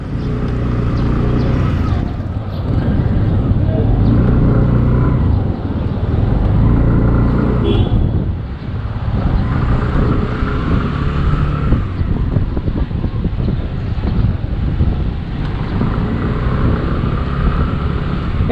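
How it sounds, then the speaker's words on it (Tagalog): A Kymco Sky Town 150cc motor scooter engine drones steadily and loudly throughout on a test ride, its pitch shifting slightly as it revs, with a brief dip partway through. "Oo, pwede mag-test ride ng motor."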